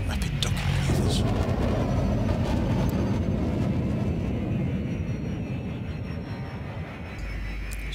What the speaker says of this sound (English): it's actually the vertical thrust that enables me to perform rapid docking manoeuvres